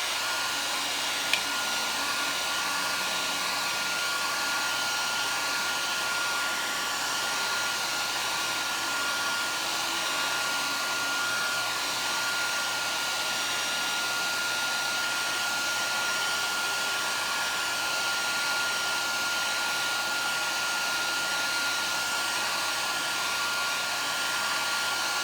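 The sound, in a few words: hair dryer drying watercolor paint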